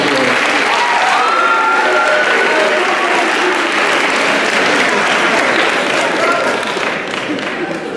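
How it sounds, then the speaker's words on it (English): Ceremony audience in a school setting breaking into sustained applause, a thick continuous crowd clapping with faint voices and cheers mixed in, steady and loud throughout. "You give it an applause."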